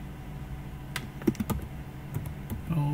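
Keystrokes on a computer keyboard while editing in Vim, a quick irregular run of close, light clicks with a couple of sharper taps, over a steady low hum and no talking.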